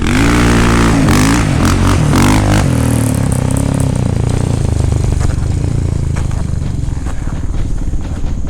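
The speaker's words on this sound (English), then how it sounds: "do a couple of flybys so you guys get a full sense of how good this bike sounds" A KTM 690R enduro motorcycle, built up for adventure riding, roars past in a loud flyby, the engine note rising and then falling away as it passes, with no talk over it.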